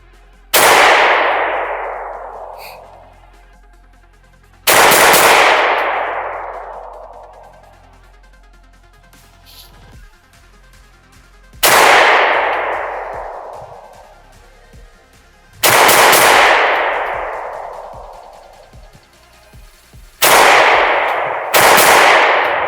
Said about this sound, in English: Let's get a double action shot off of this.